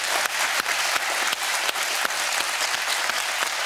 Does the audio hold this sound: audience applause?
yes